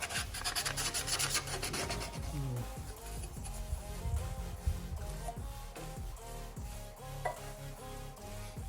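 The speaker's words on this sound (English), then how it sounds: "just gonna sand it down a little bit" Sandpaper rubs back and forth over a dirty carburetor part from a Briggs & Stratton Intek V-Twin engine with a Nikki carburetor, a close, steady rasping scrape with faint metallic clinks.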